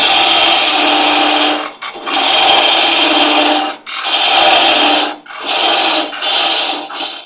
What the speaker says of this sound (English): Now we can take our parting tool, get rid of some of this.